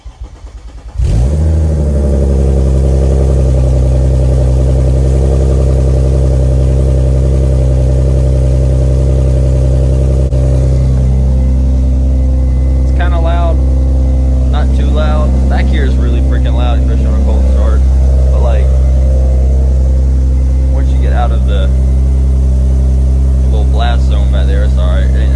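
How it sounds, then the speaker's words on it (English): An Audi 3.0T engine with aftermarket headers and the catalytic converters removed cold-starts with a sharp crank and flare, then settles into a loud, steady idle that runs throughout, with talk over it later. "I'm gonna give you a cold start real quick"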